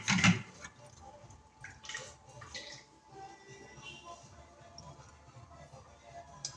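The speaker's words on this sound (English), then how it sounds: "I'm gonna rinse out my blender. Not too much water, just a little bit of water." Water splashes and sloshes inside a blender being rinsed out, with a burst at the start followed by lighter swishing and dribbling sounds.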